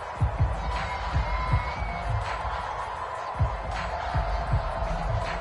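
A stadium crowd roars steadily in an American football video game during a Super Bowl matchup against the Eagles, a constant wash of cheering under a commentator's voice.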